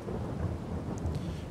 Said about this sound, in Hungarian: Ó, hogy mindenhol esik az eső.